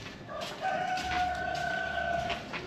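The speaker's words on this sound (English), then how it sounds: "That chicken has got some vocals." A rooster crows in a long drawn-out call on a wet day in Ninh Binh, Vietnam, loud and fairly close, standing alone against faint rainy background noise with no talk.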